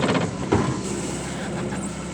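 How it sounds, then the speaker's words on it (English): A boat's engine turns over and settles into a steady running rumble with a rhythmic mechanical chatter, close and fairly loud, no voices. "the second click starts the engine"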